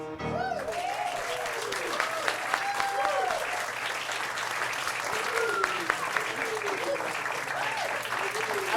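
Applause from an audience after a live folk song performance, a sustained wash of clapping lasting several seconds, with voices and calls rising over it.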